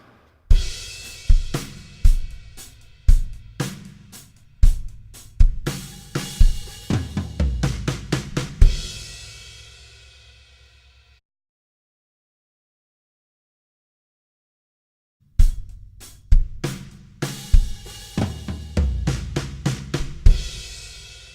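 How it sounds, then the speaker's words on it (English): A drum kit plays a rapid fill of sixteenth notes rolling around the toms and returning to the snare, loud and close, repeated twice with a long silent gap between the two passes. "it's got that same 16th note pattern that comes around the toms back to the 16th note on the snare"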